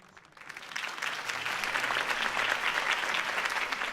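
Crowd applause in Batman: The Telltale Series after a Harvey Dent campaign speech, rising from quiet into a loud sustained burst of clapping.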